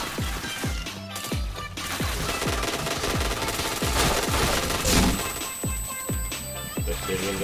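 Rapid gunfire in the shooter video game Point Blank, a dense stream of sharp repeated shots in quick bursts with ringing tones and game effects layered over it.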